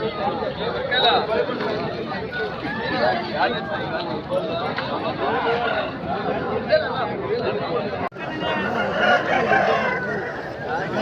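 A Setu rooster at the Pileru weekly livestock market crows amid constant crowd chatter and nearby talking, the call rising over a dense, busy background.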